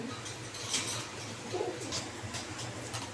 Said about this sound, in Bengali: ইতিমধ্যে কিন্তু নটটা ডাকাডাকি শুরু করে দিয়েছে